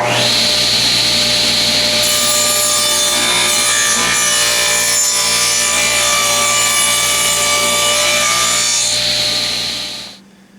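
A saw cuts a dado into wood pieces for a Harbor Freight workbench tool tray, producing a loud, sustained whining cut that holds steady for about eight seconds and then winds down.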